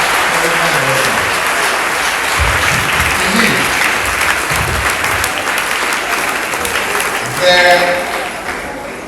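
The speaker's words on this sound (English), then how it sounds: "So give a round of applause to the regional director and his wife." Large audience at a school visit by Ghana's Director General of Education applauds for the regional director and his wife, a loud, sustained wash of clapping with voices mixed in and a cheer near the end.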